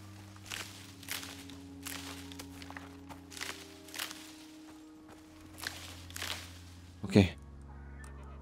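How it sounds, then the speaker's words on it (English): Player footsteps in the ICARUS survival game, a regular run of soft close steps over a steady low ambient drone, ending in a louder thud. "I heard my footstep and I thought that the wolf is coming after me"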